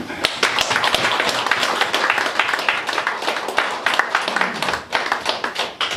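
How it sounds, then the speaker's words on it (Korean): Applause for a newly appointed chairman at a clan association general meeting rises as a dense, steady wash of many hands clapping. It stays loud and continuous for the full stretch, with no voices over it. "우리 회장님 한번 박수 한번 청해서 인사드려요"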